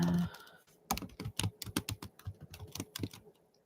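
Rapid keystrokes on a computer keyboard, a brisk burst of close, crisp clicks in an irregular rhythm after a short pause, with no talking.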